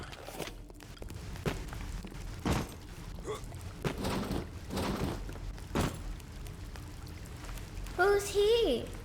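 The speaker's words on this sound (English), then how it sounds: "That's water." Water pours and splashes in the BioShock video game, several loud bursts of running water recurring amid game ambience, with a synthesized voice near the end.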